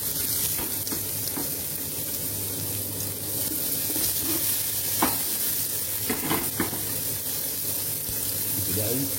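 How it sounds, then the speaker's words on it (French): Carrot and vegetables sauté in olive oil with a steady, even sizzle and occasional stirring scrapes, close and fairly loud, while a voice speaks quietly in the background. "Nous allons commencer par sauter les légumes d'abord."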